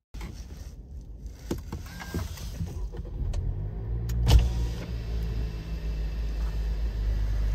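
A turbocharged Honda Civic LX engine gives a steady, gentle low rumble, heard from inside the car as a continuous smooth drone with a brief bump midway.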